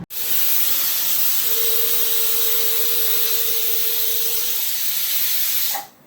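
A pressure cooker whistle releases steam in one continuous loud hiss lasting about six seconds, with a faint steady tone inside it, before cutting off abruptly.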